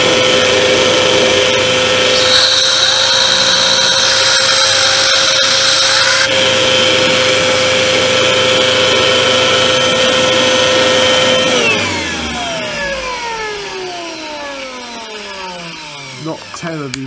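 An Electrolux Vitesse 1600 W vacuum cleaner runs its turbo brush with a loud, steady whine and hum that winds down in pitch near the end, the brush rubbing and rattling throughout.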